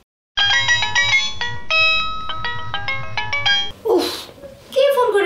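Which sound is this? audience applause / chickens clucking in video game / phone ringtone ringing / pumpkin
phone ringtone ringing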